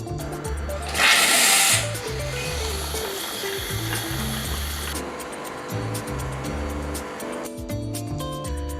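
A Jura coffee machine runs its milk system cleaning cycle with rhythmic pump pulses and whirring, a brief loud hiss of steam near the start, and steady mechanical chugging close by, no talk.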